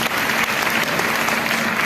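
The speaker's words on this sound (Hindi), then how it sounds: "इनके लिए एक बार जोरदार ताली" Loud, steady applause fills a hall at a formal ceremony held in Hindi, with the audience clapping densely and continuously throughout.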